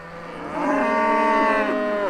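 A distressed cow moos loudly, stuck against a steep river bank while calves swim out nearby, one sustained low bellow that swells and holds for about a second and a half with no talk over it.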